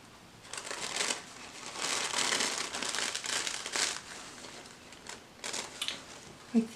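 Soft, close crinkling and rustling as the thin paper layers of a napkin are peeled apart, irregular bursts of crackle with short pauses between them.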